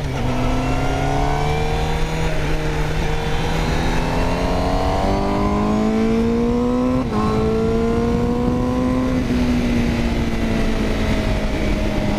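A 2020 Honda CBR1000RR-R SP sport motorcycle engine in rain mode, loud and close, climbing steadily through a long continuous rev with a brief dip before rising and settling again.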